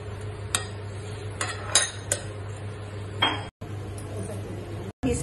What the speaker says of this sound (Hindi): इसमें हमने पनीर मिक्स कर लिया है, मटर को दबा दे रहे हैं,